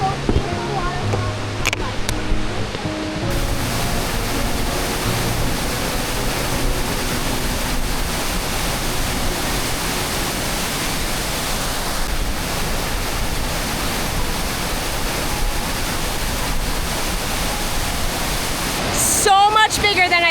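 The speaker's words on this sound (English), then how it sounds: "That is the most beautiful waterfall." Rushing waterfall at Burgess Falls, heard from nearby on a canoe outing as a loud, steady broadband roar that fills the whole clip without a break.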